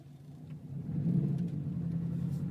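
A 2011 Subaru WRX with a manual gearbox rumbles at low revs, coasting in second gear with the clutch in while approaching a red light, a steady muffled engine drone heard from inside the car.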